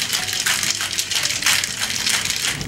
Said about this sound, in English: we're gonna give it a shake